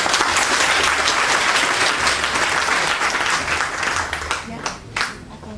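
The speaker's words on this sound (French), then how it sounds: "Et ça, je voudrais qu'on l'applaudisse si vous êtes d'accord avec moi." Audience applause at the opening ceremony of a women's museum exhibition, a dense, steady clapping from a crowd that stays loud throughout and thins slightly toward the end.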